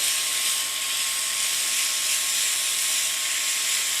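Minced meat browning in a pan for pasta Bolognese, a steady loud sizzling hiss that runs without a break from start to finish, with no talking.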